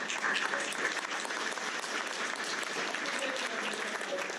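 An audience at a California small farm conference keynote gives sustained applause, a thick, even patter of many hands heard at moderate distance with no pauses.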